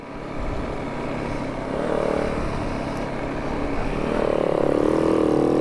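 A snow bike engine drones steadily as it rides through snow, the motor tone rising and straining louder toward the end, with no talk over it.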